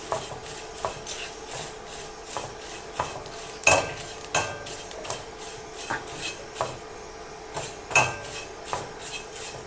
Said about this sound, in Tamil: இப்போ இதையும் நம்ம போட்டுட்டு லைட்டாக வறுத்து எடுத்துக்கலாம்.